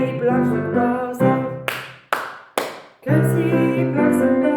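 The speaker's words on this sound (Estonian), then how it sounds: "Käsi plaksuta, hästi plaksuta." Hand clapping during a first-grade children's music lesson, with sharp broadband claps breaking through sung melody; several rhythmic claps occur alongside a children's song with singing voices throughout.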